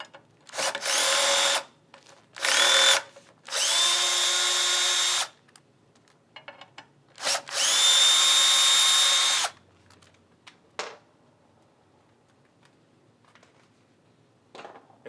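A power drill runs in four bursts, whirring steadily as it backs out 1/4 by 1/2 inch stainless black oxide socket cap screws from a scrubber filter top, loud and close, with short pauses and small clicks between.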